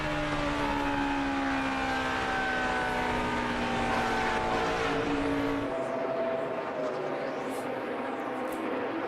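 NASCAR stock cars in the 2008 Ford 400 race at full throttle down the straightaways, a loud continuous engine roar with passing pitch sweeps that drops away near the end.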